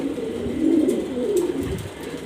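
Domestic breeding pigeons, including grizzles, coo in a loft, a close, soft, warbling run of low throaty coos lasting about two seconds with faint rustles, and no talking.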